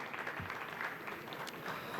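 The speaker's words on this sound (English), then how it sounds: "Can we have a round of applause for architect Azmi Wadia?" An audience at a panel discussion claps to welcome architect Azmi Wadia, a brief, even burst of many hands applauding close by, sustained throughout with no speech over it.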